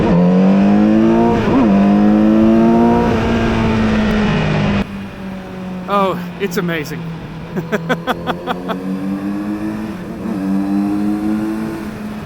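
Kawasaki Z900RS motorcycle engine, a loud, close idle and steady drone, then a series of quick sharp throttle blips rising and falling in pitch, with a rider talking briefly.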